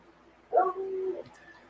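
Sugar the dog gives a single short, high bark or yip outdoors, somewhat distant, followed by quiet.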